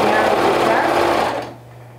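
A sewing machine runs a stretch or zigzag stitch with a rapid, even mechanical whir close by. It stops after about a second and a half, leaving a low hum.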